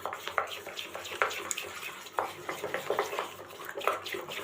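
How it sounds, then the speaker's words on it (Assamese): Rice cake batter with cream beaten in a bowl with a spoon, a quiet repeated scraping and clicking of the spoon against the bowl in quick irregular strokes, close and alone. "এইখিনি ভালদৰে ফেটি ল'ব লাগিব এতিয়া"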